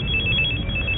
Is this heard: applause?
no